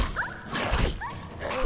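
A dog whimpers in Fallout 4 with a few short, thin, rising yelps and whines over a rough, noisy game background, at moderate loudness.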